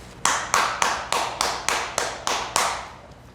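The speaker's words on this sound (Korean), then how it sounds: "박수를 부탁드립니다." About nine crisp, evenly spaced claps ring out in a steady rhythm at a rhythm-dance association talk event, close and clear, with no voices over them.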